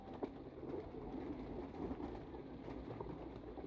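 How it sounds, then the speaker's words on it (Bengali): Pigeons feeding together among older birds in a backyard loft setting, with soft low coos blending into a steady murmuring bed of bird sounds, fairly quiet and continuous without talk. "এই কবুতরগুলা এইখানটায় সব খাওয়া দাওয়া করতেছে"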